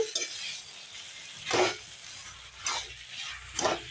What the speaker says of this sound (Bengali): গ্যাসের হিটটা এখন আস্তে আস্তে করে আমি কষিয়ে নিচ্ছি